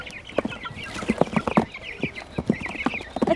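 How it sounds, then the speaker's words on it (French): Young chicks peeping and clucking in a spring outdoor setting, a dense run of close, high chirps and short clucks repeating in quick, uneven bursts. "Je vais chercher les poussins."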